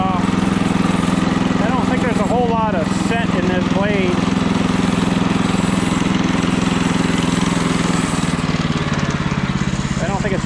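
A sawmill blade cuts cedar into corner siding strapping, its engine droning steadily and loudly throughout with a rising whine of the cut, while someone talks over the machinery.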